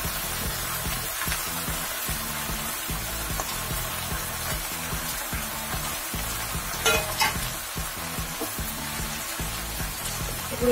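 A boiled cabbage and peas mixture sizzles and fries in a pan while being stirred, with steady crackling and repeated scraping strokes, no voices present.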